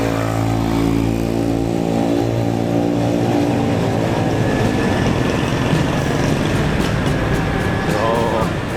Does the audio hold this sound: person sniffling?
no